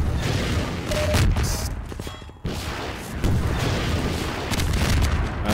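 Heavy rocket explosions in Half-Life 2: Episode 1, loud booming blasts with rumbling debris, a brief drop-off midway, then another powerful blast carrying on.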